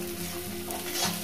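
Spinach fries in a pan over a medium gas flame, giving a soft, even sizzle with a faint steady hum beneath and no talking.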